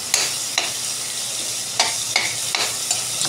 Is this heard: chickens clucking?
no